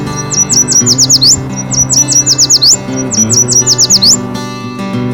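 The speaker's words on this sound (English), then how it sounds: "the buttery yellow males sing their sweet whistle song from willows, wet thickets, and roadsides" Yellow warbler singing its sweet whistled song, three clear, bright phrases of rapid slurred notes, loud and close, over a soft musical background.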